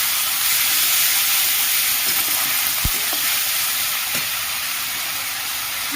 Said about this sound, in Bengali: পেঁয়াজ বাটা দিয়ে দিচ্ছি ভালো করে একটু কষিয়ে নেবো